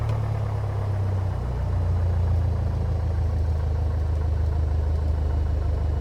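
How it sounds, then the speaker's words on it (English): A Piper PA-28 Warrior II engine idles in a flight simulator game, a steady low drone with a constant rumble that shifts slightly in pitch partway through, close and continuous with no talking. "And we should see the engine idling around 500 to 700 RPM."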